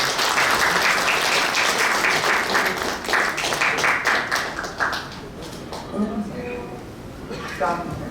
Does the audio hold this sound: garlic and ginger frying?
no